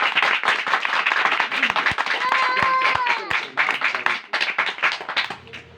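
A church congregation breaks into loud, dense clapping that runs throughout, with tones and voices rising over it in the middle and a preacher's voice mixed in.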